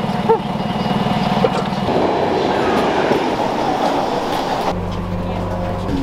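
Trains at a station platform in Slovakia, bound for Kosice, roll and rumble steadily with rail clatter, a clear tone shift near the end as another train or engine takes over, voices faintly mixed in.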